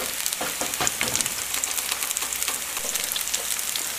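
Potato patties fry in oil with a dense, continuous crackling sizzle and occasional sharper pops, close and steady, no voices.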